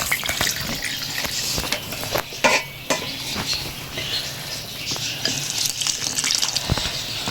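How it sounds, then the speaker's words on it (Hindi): Water is added bit by bit to jalebi batter as it is mixed, a soft trickling pour mixed with the scrape and clink of a utensil against the bowl, close and busy. "इसमें थोड़ा थोड़ा हम पानी डालेंगे।"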